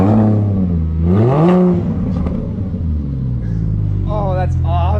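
A Porsche Boxster fitted with race headers revs up loud and rises in pitch, then falls back toward idle before a few more quick blips, while people talk over it.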